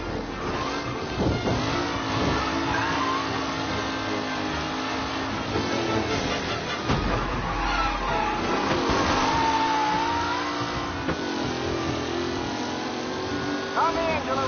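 Race car engines roar and rev during a race in the Mafia video game, with steady engine drone and pitch sweeps as cars accelerate and pass, a commentator's voice talking over the racing throughout.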